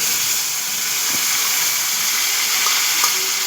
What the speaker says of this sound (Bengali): এবার আমি এর মধ্যে আমার যে সসটা আমি দেখিয়েছিলাম বানানো ছিল, সেই সসটা অ্যাড করে দিচ্ছি।